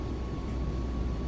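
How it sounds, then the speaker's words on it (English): Airliner jet engines of an iniBuilds A330-200 in a flight simulator spooling up at Bangkok, a steady low rumble with broadband roar held at constant level throughout, no talking. "Give me more power, airplane."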